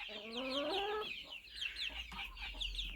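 A chicken in a new coop enclosure squawks and clucks up close, a rising harmonic cry followed by short agitated clucks, with other birds faintly chattering behind.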